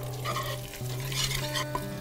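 Flour being whisked into sautéed carrot, garlic and onion in a pot, a steady scraping stir over a soft continuous sizzle and low hum, close and alone with no voices.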